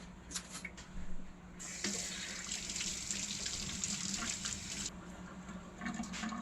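A spoon rinsed under a running kitchen tap, the water gushing steadily for about three seconds with faint clinks before and after, close and clear with no talk.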